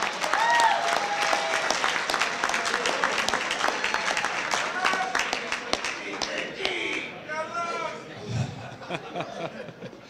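A crowd applauds with dense clapping, mixed with some chuckles and cheering voices, before the clapping thins out near the end.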